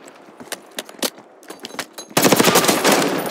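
Rapid bursts of automatic gunfire from a Call of Duty: Black Ops 6 multiplayer match, starting as sharp separated shots and then merging into a loud, sustained volley.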